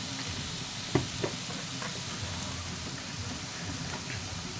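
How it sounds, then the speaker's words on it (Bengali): Finely chopped onions frying in a pan with salt, a soft, continuous sizzle with a couple of light knocks from a utensil early on, fairly quiet and without talk. "লবণ দিলে পেঁয়াজটা ভালো করে তাড়াতাড়ি ভেজে যাবে।"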